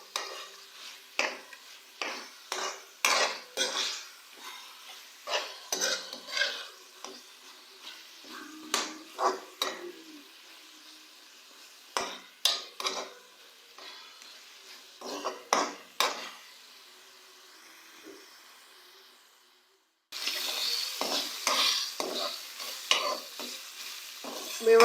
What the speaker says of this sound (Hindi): कीमे को हम लोग मसालों के साथ अच्छी तरह से भूनेंगे।